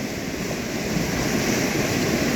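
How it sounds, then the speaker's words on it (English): A flooding creek at flood stage in the Alaska wilderness, a loud continuous broadband roar of rushing water close by, steady and unbroken, with low rumble from boulders being carried along. "it's at flood stage and it's just, you can hear it just sending boulders down"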